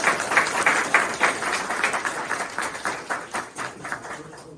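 An outdoor crowd at the Illinois College groundbreaking ceremony applauds the Board of Trustees, a dense, steady wash of many hands clapping that carries on evenly and then starts to thin near the end.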